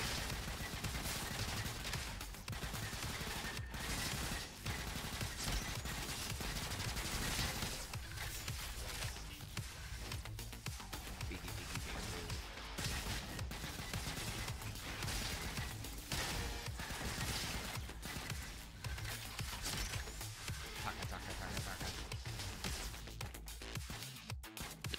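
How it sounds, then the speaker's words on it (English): A Tesla rifle in the shooter game Roboquest fires continuously for about twenty-five seconds, a dense, relentless barrage of sharp crackling zaps layered with other combat clatter and crashes, loud throughout with no pauses. "Tesla rifle goes zit zit zit."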